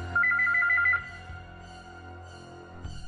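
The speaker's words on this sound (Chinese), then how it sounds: "警队的报警电话又一次响起" A telephone rings at a police station emergency line in a short burst of repeated trilling tones, fairly loud, then stops, leaving a low hum and faint background noise.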